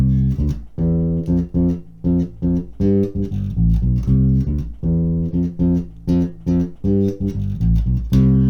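Electric bass plays a song line built on the major scale: a bouncy, repeating pattern of short, punchy notes, close and loud, with no voices.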